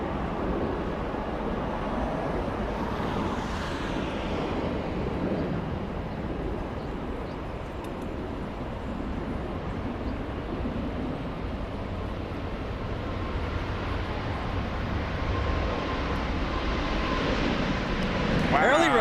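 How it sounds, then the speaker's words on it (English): An Airbus A350 jet takes off, its engines producing a loud continuous broadband roar that holds steady throughout, heard with wind and a voice talking over it. "there goes the A350 flying to Atlanta."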